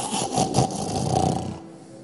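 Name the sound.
voice imitating a husband snoring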